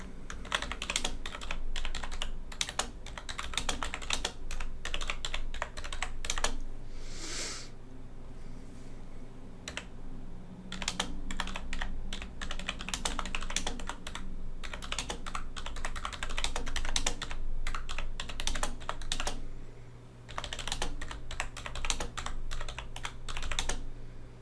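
Rapid typing on a computer keyboard, close and clear, in dense irregular bursts of key clicks with a brief pause partway through and no talking.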